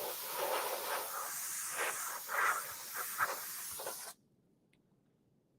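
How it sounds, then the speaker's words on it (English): Canned compressed air sprays inside an OKI 8432 white toner DTF printer, a close steady hiss with a few surging bursts that stops abruptly, leaving near silence. "So if you see some toner accumulated, just get it with the canned air."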